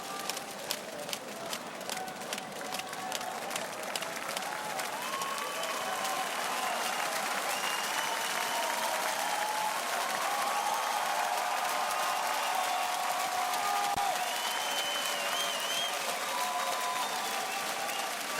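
A boxing crowd in Berlin, Germany, applauds in a dense, sustained patter that starts with scattered claps and swells into steady clapping across the whole stretch, with murmuring voices underneath.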